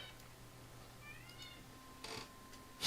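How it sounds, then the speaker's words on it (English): An indoor house cat staring at a wall gives a few faint, drawn-out meows, with a short burst of noise after them in a quiet room. "our cat again is just kind of staring at the wall and meowing"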